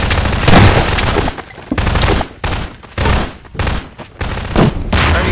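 Rapid bursts of gunfire in the Prop Hunt video game, loud and close, coming in several clusters of sharp repeated shots with short gaps between them.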